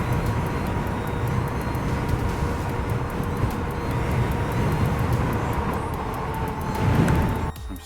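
A Sherman S ridden quickly, giving a constant loud rush of wind and road noise with a faint steady whine that swells briefly before cutting off abruptly near the end.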